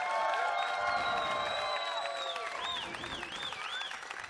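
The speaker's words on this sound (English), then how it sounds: "Let's give your applause for Sebastian." Convention audience applauds a judged performance at a furry event, clapping and cheering under loud whistling music tones that sweep and warble over the crowd.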